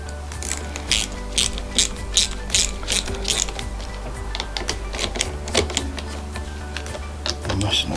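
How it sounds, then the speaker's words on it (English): Ratchet spanner clicking on the master cylinder bolts of a 1980s Yamaha RD 350 LC motorcycle, rapid close ratcheting in repeated short bursts of clicks. "I'm messing about with the spanner"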